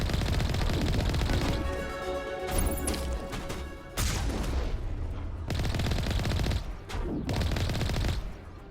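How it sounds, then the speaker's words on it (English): Enemy gunfire in the video game Mass Effect 1 Legendary Edition, dense bursts of rapid shots and crashing impacts filling the scene almost continuously, with brief pauses between volleys. "Why are you guys shooting at me?"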